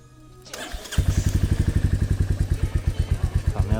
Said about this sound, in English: Familiar, chugga wugga wugga wugga wugga of the Royal Enfield.